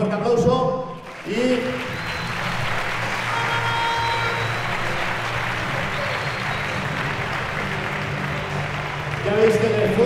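Audience applause at a bodybuilding competition, a sustained wash of clapping lasting several seconds at moderate loudness, with brief voices at the start and end.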